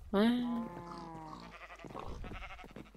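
A Minecraft sheep gives a single loud bleat at the start, followed by quieter game sounds and a voice talking.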